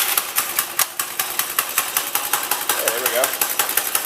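A cheap small go-kart engine is pull-started and settles into a fast, rattly idle, firing in a steady quick rhythm up close while someone speaks briefly over it.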